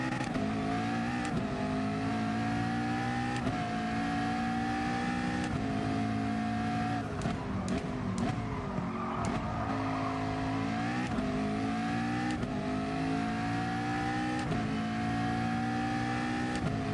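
A GR3 race car in Gran Turismo Sport revs hard and continuously, its engine pitch climbing and dropping through gear changes over a loud, sustained run with no talk.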